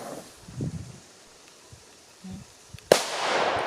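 A 1.8 g FP3 Big Jorge firecracker bursts on grass with a single sharp bang, the blast muffled by the turf and trailing into a broad hiss, after a few soft rustles and faint noises.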